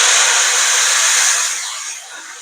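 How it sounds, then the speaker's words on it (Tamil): Mint and coriander leaves sauté in a kadai for mint chutney, giving a steady, close sizzling hiss that softens and fades a little after the first second and a half, with no talking. "இப்போ நம்ம அதே கடாயில் புதினா கொத்தமல்லியை போட்டுடலாம்."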